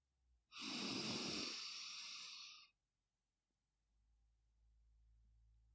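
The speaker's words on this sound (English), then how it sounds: "you are breathing out through your mouth" A person exhales through the mouth in one long, close, breathy rush lasting about two seconds, followed by quiet room tone.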